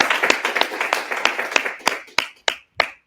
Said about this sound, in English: we can give a round of applause to Fabrice today